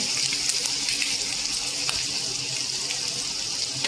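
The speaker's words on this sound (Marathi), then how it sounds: "आता मोहरी अशी चांगली तडतडायला लागली पाहिजे." Mustard seeds crackle and sizzle in hot oil for a spicy pithla tempering, a dense steady hiss with scattered sharp pops, close and continuous with no talking.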